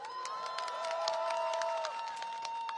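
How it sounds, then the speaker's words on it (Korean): A crowd at an outdoor political rally in Gwanghwamun, Seoul, demanding President Yoon's impeachment, claps and cheers in steady, sustained applause with scattered sharp claps, while a faint tonal hum runs underneath. "박수 한번 보내주세요"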